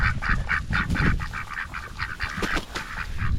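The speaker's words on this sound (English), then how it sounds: "So they're the male ducks, they're locked out here right now." Male ducks penned outdoors honk and quack in a steady run of repeated calls, close and fairly loud, with no talk over them.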